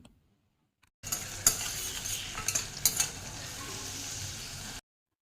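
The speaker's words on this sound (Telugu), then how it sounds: "పోపు వేగింది అనుకున్న తర్వాత మనం కట్ చేసి పెట్టుకున్న ఒక ఉల్లిపాయ ఉంది కదండి అది వేసేసుకోండి" Chopped onion and three green chillies dropped into hot tempering oil in a pan for an ivy gourd curry, sizzling steadily with stirring scrapes and a few sharp clinks, close and alone, after a short silence.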